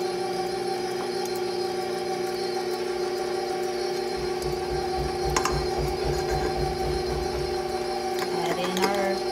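An electric mixer runs at low speed through blonde gingerbread cookie dough, giving off a steady, close mechanical whir and hum that holds constant for the whole stretch.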